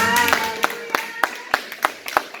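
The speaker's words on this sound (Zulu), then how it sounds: "Ake simshayele ihlombe shaya." A church congregation claps their hands in a rhythmic series of sharp, evenly spaced claps, with a voice speaking and a held musical tone at the start.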